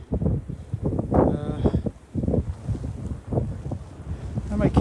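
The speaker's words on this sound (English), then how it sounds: "Kind of windy." Strong wind in a heavy-snow blizzard buffets the microphone in close, rumbling gusts that rise and fall unevenly over several seconds.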